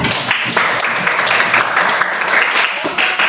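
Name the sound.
classroom applause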